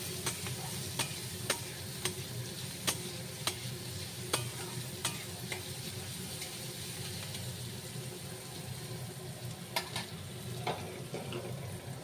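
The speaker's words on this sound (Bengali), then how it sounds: "ভালো করে নাড়াচাড়া করে নিতে হবে।" A spoon scrapes and knocks against a frying pan while cashew nuts sizzle underneath, with a steady frying hiss broken by repeated sharp clacks of stirring and no talk.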